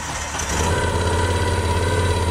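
Motorcycle engine firing up and settling into a steady idle, a low rumbling drone that swells after a brief start and holds continuously and close, with no talking.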